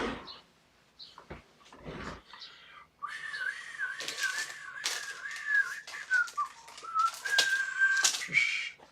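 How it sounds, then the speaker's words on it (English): A person whistles a wavering, melodic tune for several seconds, close to the mic, after a few quiet bumps and soft noises. "I'm sorry for whistling."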